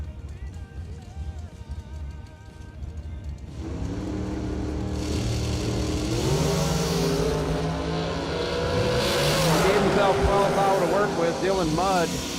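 A dragster at a drag strip during a Christmas bracket racing event roars up, its engine note climbing and surging loudly across the second half, under continuous announcer commentary.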